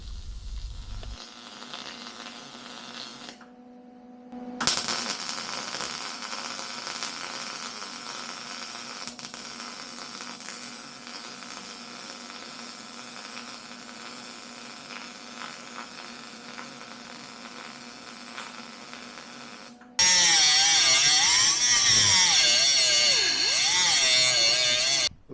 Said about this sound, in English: Welding the box all together, I'm doing small sections, rotating the box, then doing another section.